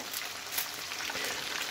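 Sausage with bacon frying in a pan for Polish-style baked beans, a steady dense crackling sizzle close by, continuous and fairly quiet, with no voices.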